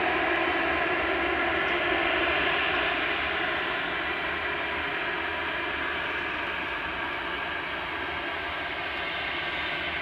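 An airplane departs from Edmonton airport in the early morning, a steady broad engine roar that holds loud and distant before easing slightly as it climbs away.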